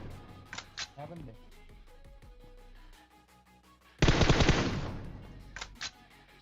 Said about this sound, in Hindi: अब मैं गाड़ी पे गोली चलाता हूँ, दीवार पे गोली चलाता हूँ